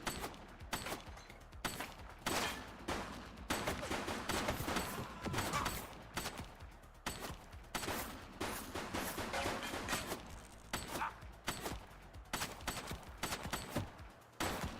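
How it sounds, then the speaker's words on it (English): Gunfire in the video game Grand Theft Auto VI, repeated bursts of rapid automatic shots and sharp single cracks in quick succession, loud and dense across the stretch, with brief gaps between volleys. "She's shooting!"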